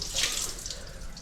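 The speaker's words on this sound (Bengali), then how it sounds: "চিকেনটাকে ফ্রেশ করে ধুচ্ছে" Tap water runs steadily over raw chicken pieces being washed in a sink, a close, continuous splashing rush with no talk.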